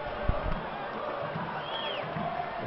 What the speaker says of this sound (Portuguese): E a torcida canta.